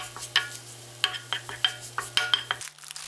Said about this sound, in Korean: 버터 한 조각을 넣고 골고루 섞어서 풍부한 버터 향을 입혀줍니다